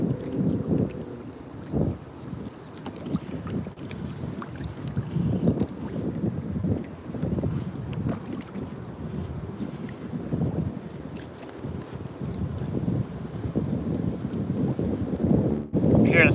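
Wind gusts across open water around a fishing boat near an island, a steady rushing buffet on the microphone with faint low rumble and small knocks, mostly without voices.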